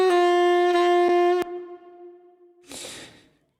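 Saxophone sustains a traditional-style Valhalla reverb, a clear harmonic tone ringing for about a second and a half before stopping, its tail decaying softly, followed by a brief breathy burst that fades out.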